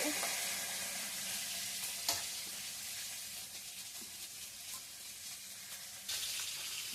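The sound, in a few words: fish frying in a kadai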